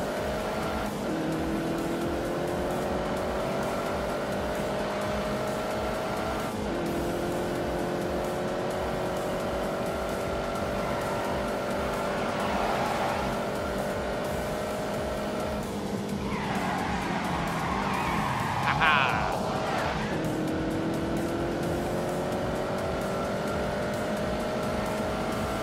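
A car accelerating hard in The Grand Tour Xbox One game, its engine note climbing in long steady sweeps with brief dips at gear changes and a scuffing tire sound near the end, loud and continuous without talk.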